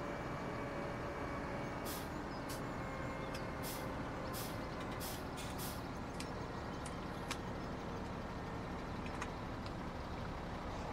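A truck driving in Farming Simulator 17, a continuous rumbling engine drone with a scatter of short hissing, air-brake-like bursts over it, fairly faint and with no voices.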